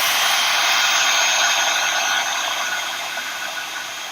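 A heat tool blows steadily and loudly while setting embossing powder and foil on a card, a continuous whirring hiss that eases slightly toward the end.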